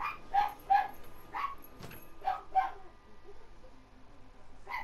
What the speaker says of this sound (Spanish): lástima que mis perros están ladrando